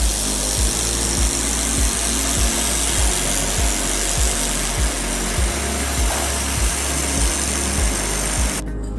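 An air-cooled laser welding machine welds thick stainless steel three-way pipes, giving a loud steady industrial drone with regular pulsing thumps throughout, no voices.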